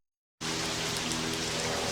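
Steady rain starts abruptly after a short silence and keeps falling evenly, a dense, close hiss with no voices over it.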